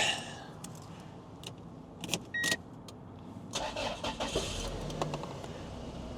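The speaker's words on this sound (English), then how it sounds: "First, we'll start it up." A 1998 Toyota Hiace Regius 4WD van with the 3RZ engine starts: a brief crank, then the engine catches and settles into a smooth idle, with key and interior clicks around it.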